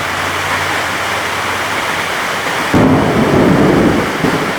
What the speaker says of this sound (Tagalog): Narinig niyo ba yung kulog?